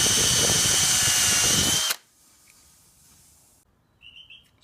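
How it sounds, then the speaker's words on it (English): A power drill whines loudly for about two seconds while drilling and chamfering a screw hole for a Milgard vinyl replacement window, then stops abruptly, leaving faint background and a few distant bird chirps. "We're going to drill and chamfer at the same time."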